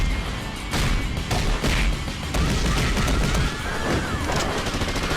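Animated fight between Chuck Norris and Segata Sanshiro with a dense, sustained burst of gunfire, rapid overlapping shots and impacts filling the whole stretch, loud and close with crashing hits mixed in.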